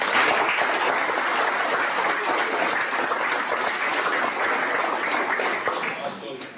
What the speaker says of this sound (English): I think these three ladies right here need a big round of applause for them.